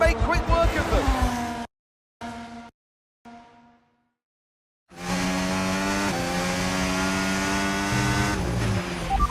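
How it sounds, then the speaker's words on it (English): Formula 1 race cars in the F1 25 video game scream past with a loud, high-revving engine whine that cuts out in short gaps, then returns strongly and holds steady. "Some great team driving going on here from a Connor Sport perspective, because Mayer's definitely backing this pack up, and her teammate Jackson is now catching."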